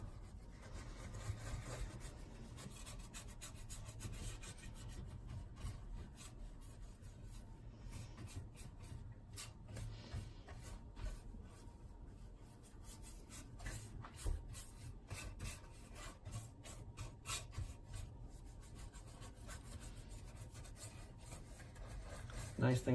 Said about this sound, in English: I'm just going to take a little soft boar's hair brush, kind of agitate all the dirt off